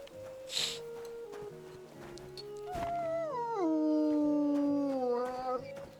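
A dog howls in the medieval video game Kingdom Come: Deliverance 2, a long wavering call that rises and falls over several seconds, with a whimpering yelp near the start and game ambience underneath.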